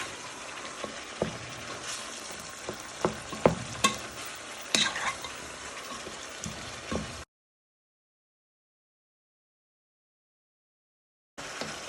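Ingredients fry in a pan for a Scouse stew while a spoon stirs them around, producing a close crackling sizzle with scattered clinks and scrapes. The sound cuts to silence partway through and returns briefly at the very end.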